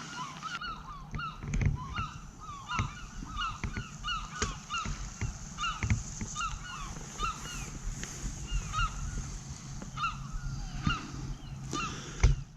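Geese honking on an Alaskan river at night during salmon fishing; repeated honks at mid distance over steady water and boat noise, with occasional knocks.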